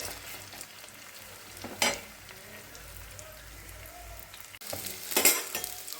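Soya chunks fry in hot oil in a wok for a chili soya dish, giving a steady crackling sizzle with louder bursts of stirring around two seconds and near the end. There is no talk.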